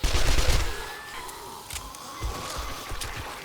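Explosions in the 7 Days to Die video game go off in a loud opening burst, followed by scattered booms and rapid crackling gunfire-like bangs.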